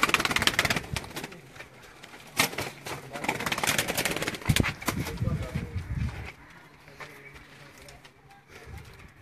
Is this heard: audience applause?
no